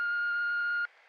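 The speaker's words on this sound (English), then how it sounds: "so leave a message after the beep." An answering machine gives a single steady electronic beep, clear and loud, lasting almost a second before it cuts off to faint line hiss.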